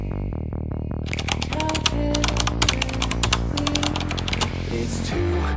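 Rapid keyboard typing of a Roblox promo code, dense clicking keystrokes heard close over loud background music.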